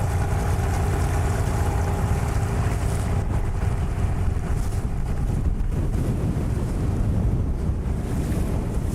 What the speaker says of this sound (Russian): Ветрюган, конечно, страшно вообще.